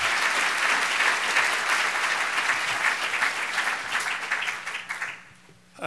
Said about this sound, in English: please join me in giving them an enormous round of applause